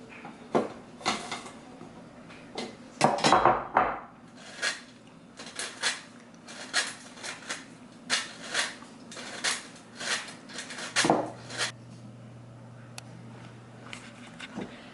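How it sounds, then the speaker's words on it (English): Almond meal being sifted into a bowl for macarons with a handheld sifter: a close, steady series of short rattling and scraping bursts in an uneven rhythm over a faint low hum. "So now we're going to sift in the almond meal."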